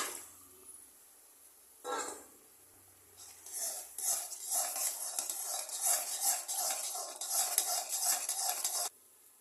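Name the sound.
stirring food in a pan with added milk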